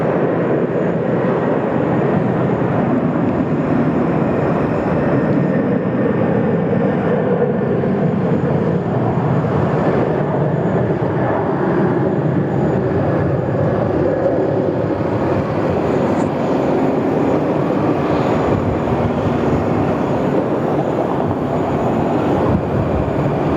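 A Qantas Airbus A330 bound for Jakarta at Sydney Airport, a loud continuous jet engine roar that holds steady and broad at close range, with no talk.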